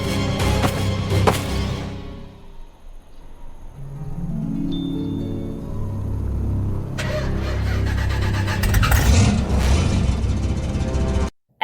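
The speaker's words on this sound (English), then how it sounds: "And now they give Springtrap a car." Car engine in an animated fight scene between Trapper and Springtrap: a sustained rumbling engine drone swells and holds with rising revving, mixed with clattering impacts and cartoon effects.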